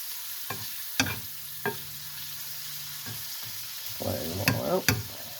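Shrimp cooking in a pan, coated in flavoring for a tomato spinach shrimp pasta, give a low, steady sizzle broken by a few sharp clinks of a utensil against the pan. No one speaks.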